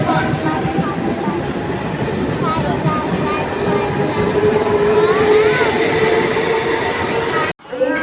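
A down Bandel local train rumbles past near a suburban railway platform in West Bengal, a loud, steady roll of wagons with a rising metallic squeal, and a voice talks over it.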